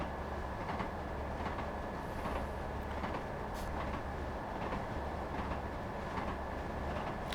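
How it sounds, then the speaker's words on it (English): Steady rhythmic clickety-clack of train wheels over rail joints in Train Sim World 6, on a Northern Trans Pennine run, with a continuous low rumble and repeating beats throughout and no talking. "Clickety-clack, clickety-clack, clickety-clack, clickety-clack, clickety-clack,"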